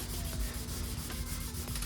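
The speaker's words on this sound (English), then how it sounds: "I'm just gonna keep sanding this just like this, back and forth over this run to cut it down" Close, steady back-and-forth rubbing of 1000 grit sandpaper wet sanding a paint run on the body of a Fox Body car, with rhythmic strokes and no speech.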